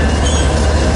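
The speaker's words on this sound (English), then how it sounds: "eastbound grain train passing in front of me with 8049 leading, and the second unit is 4279" An eastbound grain train led by locomotive 8049 with a second unit 4279 rumbles past close by in Lincoln, Nebraska, a steady loud roar of rolling wheels.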